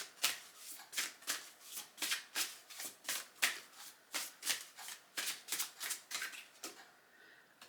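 A deck of cards is riffled and shuffled close up in a quick, steady rhythm of crisp, fluttering bursts, about two a second, with no voices over it.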